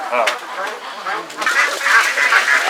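Ducks on a Bangladeshi duck farm give several nasal quacks and honks close by, mixed with a person talking.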